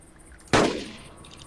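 A single sharp C1 rifle shot in the Carnivores Genesis hunting game, a loud sudden crack followed by a brief fading echo, no voices.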